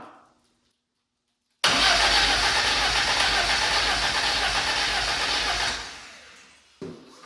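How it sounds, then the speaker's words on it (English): Starter cranking a turbo-swapped classic BMW 2002 engine: after a quiet pause, a loud steady whirring crank runs for about four seconds, then stops, followed by a short burst. "I'm going to apply power to the starter and see what happens"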